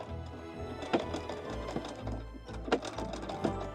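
An antique foot-powered treadle sewing machine stitches with a rhythmic mechanical clatter, a low rumble of the treadle drive under repeated sharp needle knocks, close and fairly quiet.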